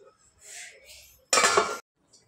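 A metal lid settles onto a pan of fenugreek leaf curry with a brief bright clatter, after a few soft kitchen shuffles, then quiet.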